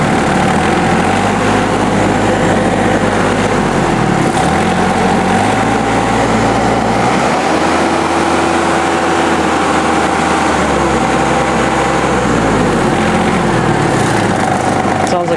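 John Deere F1145 diesel mower engine running at higher RPM, a loud, continuous low drone with pitch shifts as the revs rise and fall, close by throughout.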